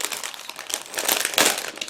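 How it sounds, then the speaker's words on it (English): A plastic bag holding parts of an ICM 1/72 scale G4 1935 Production model kit being opened, with close, continuous crinkling that swells into a louder crackling burst near the end. "I need a second to open the plastic bag"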